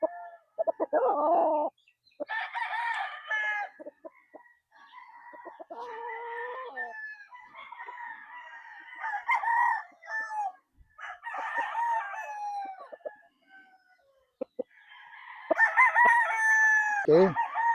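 Gamefowl roosters crow repeatedly at a game farm, several overlapping calls from different birds, with clucking and short gaps between bursts; loud and close.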